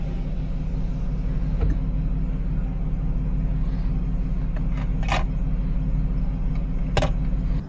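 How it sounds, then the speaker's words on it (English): A supercharged Ford XR8 Sprint driving, with a steady low engine and road rumble heard from inside the cabin, plus a few brief clicks and rattles. "this is going to be the first time I'm driving a Ford"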